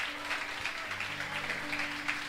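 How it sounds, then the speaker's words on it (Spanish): A church congregation applauds during a sermon, a steady patter of many hands clapping at moderate volume, somewhat distant and roomy, with a faint sustained tone beneath. "si le va a aplaudir a Dios, no lo amague"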